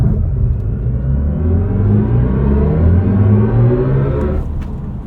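A 2024 BMW i5 M60 electric car launching hard from a standstill: a smooth, steadily rising electric whine over a low tire and road rumble, building for several seconds before easing off, loud and close with no talking.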